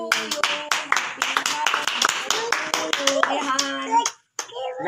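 Quick, bright hand claps in a steady rhythm at a child's home birthday party, close and loud, with voices singing and someone talking over them before a brief pause.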